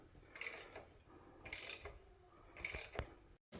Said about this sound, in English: He's doing that with a tiny 3/8 inch ratchet.